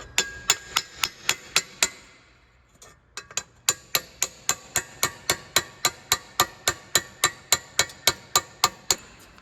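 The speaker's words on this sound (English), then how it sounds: "So I have to like chisel it out." Repeated sharp metal-on-metal hammer strikes on a chisel, driving out a rusted, corroded catalytic converter part on a 2011 Honda Accord Crosstour 3.5L V6; about two dozen loud, close blows in a steady rhythm with a short pause early on.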